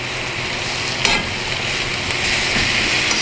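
Oil and salt scraped and pushed around the bottom of a Lodge carbon steel pan over high heat on a KampMate wood-burning camp stove, a close, continuous gritty sizzle with scraping strokes and a brief louder scrape.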